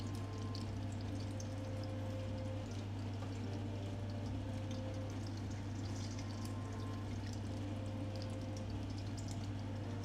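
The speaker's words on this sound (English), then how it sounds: "Secondary frying." Chicken nuggets in their second deep fry in oil at 170 degrees, giving a steady, dense sizzle and bubbling that runs unbroken throughout at a constant close level, with no voices over it.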